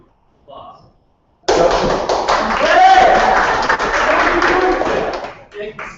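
Audience applause at a Georgetown public speaking event, starting abruptly after a short silence and sustained as a dense, fairly loud wash of clapping with some voices mixed in, tapering off near the end.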